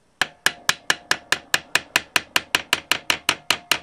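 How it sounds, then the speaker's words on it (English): A small ball peen hammer strikes a screw head clamped in a solid vise, about sixteen sharp metallic taps in a fast, even rhythm, loud and close with nothing else heard. "and take a small ball peen hammer"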